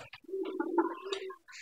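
A pigeon settling into a new nest box gives a single close, soft, throaty coo lasting just over a second, with a faint short call just before it in otherwise quiet surroundings.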